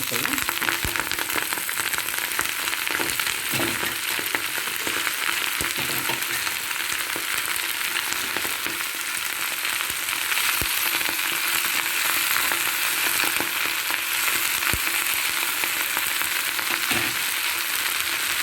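Ceylon spinach leaves fry in a pan with a steady, loud, dense sizzle that runs the whole time, with occasional faint stirring clicks and no voices.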